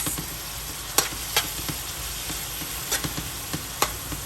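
Onions and garlic fry in a pot for chicken and rice, with a steady broadband sizzle under a run of sharp spoon-against-pot scrapes and taps as the mix is stirred, close and moderately loud.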